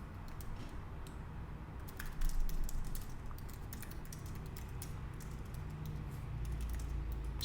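Keystrokes on a computer keyboard clatter in a steady stream of light clicks, close and moderately quiet over a low background hum.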